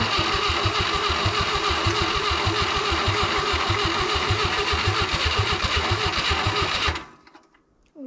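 ZAZ-968 car with low compression being cranked, a loud, close, rapid rhythmic chugging from the starter and engine for about seven seconds before it cuts off abruptly into near silence.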